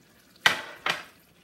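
Two sharp clanks about half a second apart as a spoon stirs pinakbet vegetables and beans in a cooking pot, with quiet kitchen background and no talk.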